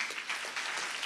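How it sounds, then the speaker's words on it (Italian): Brief burst of crowd applause at an awards ceremony, steady clapping from many hands, moderately distant. "Un applauso per Gigi Piu,"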